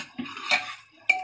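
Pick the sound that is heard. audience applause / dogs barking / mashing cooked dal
mashing cooked dal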